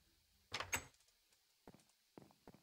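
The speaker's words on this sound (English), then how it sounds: "I heard trap door." Minecraft trapdoor sounds during a Bedwars match: a pair of wooden clacks followed by several fainter, quick clicks a moment later.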